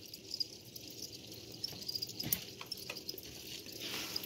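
Feeder crickets kept for a redknee tarantula chirp in a faint, steady high trill with scattered light rustles and taps nearby, and no talk.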